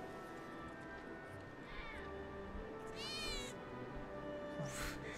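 Cats meowing in Final Fantasy 7 Remake, a few short mewing calls rising over a steady low game ambience with faint background sounds.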